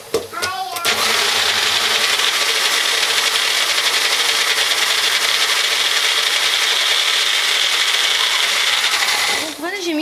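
A kitchen blender whirs loudly and steadily for about eight seconds, mixing flour, milk and other ingredients for Moroccan harira soup, with brief voice sounds just before it starts and after it stops.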